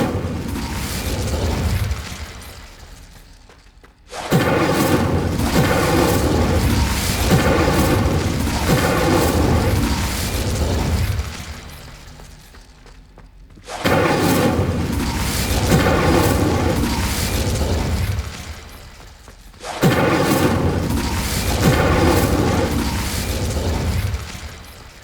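Incendio fire spells burst out in the Hogwarts Legacy video game, loud whooshing blasts arriving in three long surges separated by brief near-silent gaps.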